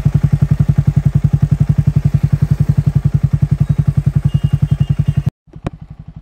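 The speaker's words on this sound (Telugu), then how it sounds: "ఇప్పుడు చిన్నగా రేస్ చేస్తాం చూడండి. ఇంజన్ నాకింగ్ సౌండ్ బాగుంటుంది దీన్ని" A Triumph Speed T4 motorcycle engine runs close up, a loud, rapid, evenly pulsing thump at steady idle-like revs that cuts off abruptly near the end, followed by a short click.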